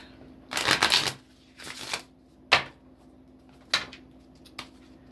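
Tarot cards are shuffled in several quick riffling bursts, separated by short pauses, close and crisp against a quiet background.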